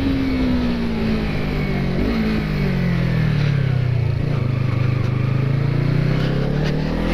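A Yamaha MT-03 motorcycle engine revs close and loud, its pitch sliding down and then climbing again as it accelerates, with steady road noise and no talk.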